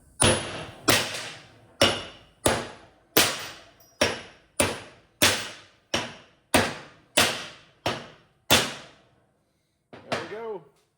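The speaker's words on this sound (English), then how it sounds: "I'm just going to take a hammer." About a dozen sharp hammer strikes on metal knocking out studs, evenly spaced and close, each ringing briefly, followed by a short metallic clatter.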